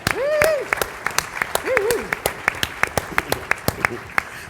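Audience applause at a transit conference session, steady clapping from a crowd that thins into distinct individual claps, with a voice speaking over the start.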